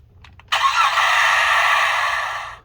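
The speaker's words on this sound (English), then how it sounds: "Like a startup engine noise." A toy Jurassic World Fierce Changers T-Rex plays an electronic engine-startup effect. A few faint clicks come first, then a sudden loud, bright roar of engine noise holds steady for about two seconds before fading out. No talk.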